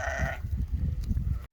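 A young sheep bleats once, a short wavering cry up close, followed by nearly a second of low rustling and shuffling in a farm pen before the sound cuts off.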